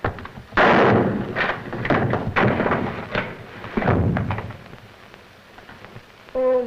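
Gunshots in a 1934 crime film come as a run of loud, sharp bursts with ringing decay on an old, noisy soundtrack, ending on a short musical swell.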